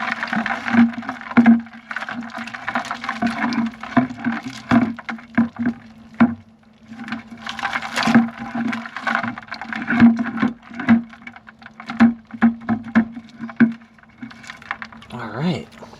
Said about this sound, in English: Drop a crab snare in. Give it a couple spins.